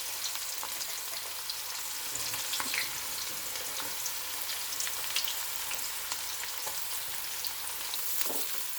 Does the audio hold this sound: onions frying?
yes